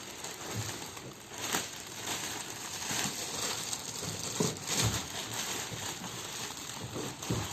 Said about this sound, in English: Now unwrap the packaging from the hob and carefully lift it.